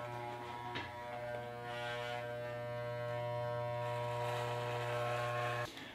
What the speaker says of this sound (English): I'm just going above the ear, pretty much next to the ear with the bottom of the clipper head.